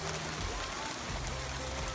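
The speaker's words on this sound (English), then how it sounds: "look at those chunks of this hail" Hail comes down during a storm in Colorado as a steady, dense patter of impacts that fills the whole two seconds with loud, continuous noise.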